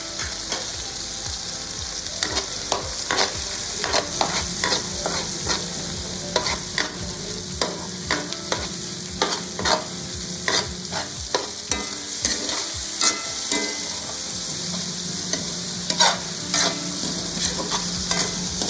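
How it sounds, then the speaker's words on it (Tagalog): Onion and then garlic sauté in hot oil for Bicol express, a continuous close sizzle punctuated by frequent sharp scraping and clinking of a utensil stirring against the pan, with no talking. "Igisira natin ang sibuyas. Then bawang."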